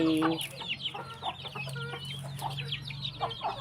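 Chickens cluck and chatter in a coop, several birds calling in irregular bursts at close to moderate distance over a low background hum.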